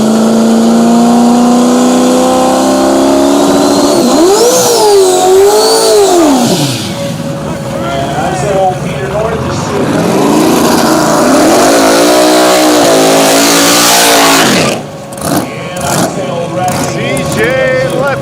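Drag racing cars launching side by side at a dragway, a turbocharged car against a nitrous car, engines revving hard and roaring loud down the strip, with a crowd and an announcer's voice over the noise.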